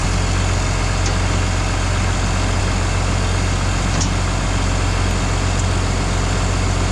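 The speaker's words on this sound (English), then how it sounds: "I'm gonna stick the battery box back on, move the side-by-side ahead, and pull this thing out." A side-by-side utility vehicle's engine runs steadily on a farm, a loud, constant low rumble with no pauses, no voices over it.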